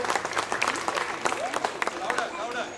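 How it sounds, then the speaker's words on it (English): An audience at a magic show claps for volunteers on stage, with brisk uneven applause and scattered voices and chatter mixed in throughout. "A warm round of applause for the thick friends."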